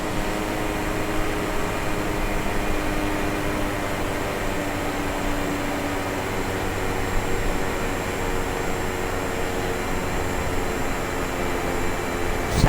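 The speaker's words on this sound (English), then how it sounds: "Sound like a prop plane right now" Propeller airplane engine in Microsoft Flight Simulator 2020 drones steadily, a loud, even hum with a broad airy wash and no breaks, and no voices over it.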